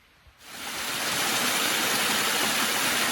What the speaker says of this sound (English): Another little waterfall in the New Hampshire wilderness.